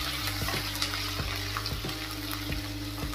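Asafoetida frying in hot oil in a pan on a gas stove while being stirred, a steady close sizzle with a few soft scraping strokes of the spoon, no talking.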